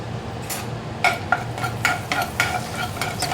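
Spice mixture of melted butter, chili powder, garam masala and salt stirred in a pan for palak paneer, a steady sizzle punctuated by several sharp spoon scrapes and clinks against the metal.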